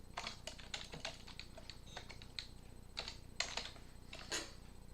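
Steady keyboard typing on a computer while test data is entered, with quick bursts of keystrokes and short pauses, fairly faint and close, with no talking.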